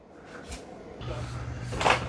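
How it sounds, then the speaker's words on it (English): An ECOVACS DEEBOT T30S docking station door closes with a soft mechanical thud and shuffle, over a low motor hum that starts partway through. "And then it's closing the door."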